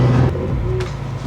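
BMW M3 E46 engine droning steadily for a second or so during donuts, a low continuous car engine tone at moderate level with a brief higher whine, no speech.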